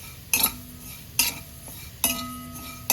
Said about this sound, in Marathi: मी कढई ठेवलेली, त्याच्यामध्ये भाजून घेते. कोरड्याच भाजणार आहे